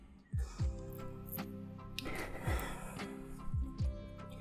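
Heavy, effortful breathing during a full-body warm-up workout: a series of short, sharp inhales and exhales in an irregular rhythm, close and fairly quiet.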